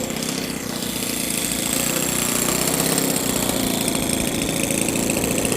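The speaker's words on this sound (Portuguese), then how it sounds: "Rápido o motor." An electric Stick model aircraft's motor runs loud and continuous, with a steady buzzing drone that swells slightly over the few seconds and no voices over it.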